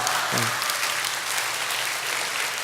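A church congregation claps together in a brief, even burst of applause, full and close, lasting only a couple of seconds.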